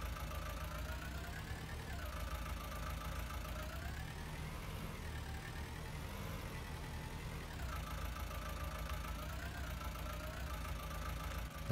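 A steady, low mechanical drone from an MB Trac tractor engine idling in Farming Simulator 19, continuous and even with slight shifts in tone, heard alone without talk.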